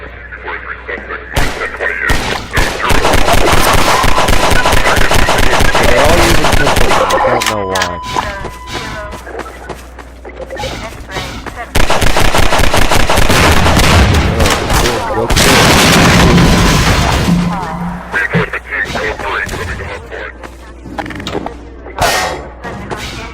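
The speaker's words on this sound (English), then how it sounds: "they're also shooting at me after they blew me up" Heavy gunfire and explosions in Half-Life 2, dense rapid shots and loud booms in two long intense bursts, with someone talking over the combat.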